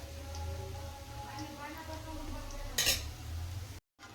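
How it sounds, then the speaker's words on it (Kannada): Benne muruku (chakli) fry in hot oil with a steady, fine crackling sizzle throughout, broken by a brief sharp clatter midway. The sound stops abruptly just before the end. "ಇದು ಚೆನ್ನಾಗಿ ಫ್ರೈ ಆಗಲಿ."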